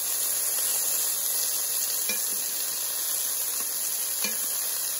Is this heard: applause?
no